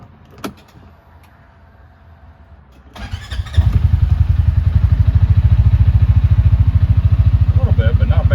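A CFMoto UForce 600 UTV is cranked over and catches at about three seconds, then settles into a loud, close, steadily thumping idle; a short click comes earlier in the near-quiet lead-in.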